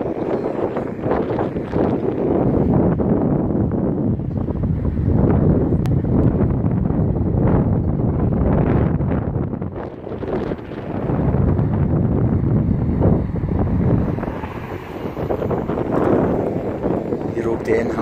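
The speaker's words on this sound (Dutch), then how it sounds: "Er is veel wind, maar het is ook lekker warm." Strong wind buffets the microphone on an outdoor walk in Terneuzen in October, with loud, gusting roar that dips briefly before returning, and a person speaking beneath it.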